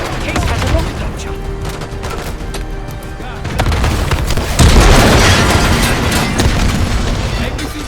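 Loud booms and bursts of automatic gunfire from a rocket launcher fight in the Call of Duty Black Ops 6 campaign, a dense continuous barrage that grows heavier midway.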